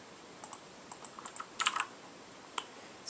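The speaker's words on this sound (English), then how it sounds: "Keyboard." Typing on a computer keyboard during a website coding session, with sparse clicky keystrokes, a quick burst near the middle, and a lone click later, fairly faint against a quiet room hum.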